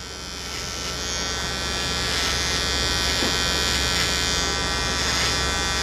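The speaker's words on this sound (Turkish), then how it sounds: "Rexuki AliExpress'ten aldığımız makinenin incelemesine başlıyorum." A Rexuki electric hair clipper runs continuously at close range, a steady loud motor buzz with a bright metallic whine that barely varies.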